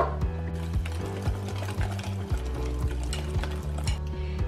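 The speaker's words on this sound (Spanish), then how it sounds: "ahora vamos a poner la harina. Entonces ahora tenemos todo dentro y ahora lo vamos a mezclar todo." Pancake batter being stirred with flour in a bowl: steady, rhythmic scraping and sloshing strokes at close range, repeating evenly without talk.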